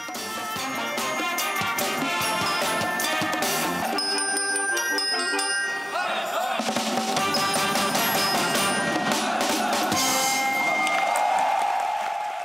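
The Army 28th Division military band plays a lively piece, with a drummer driving the beat under brass and other instruments, loud and continuous before an audience.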